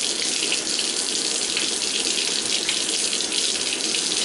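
Steady running water pours from a tap over a child's hair during a wash, a continuous close hiss filling the whole stretch with no voices.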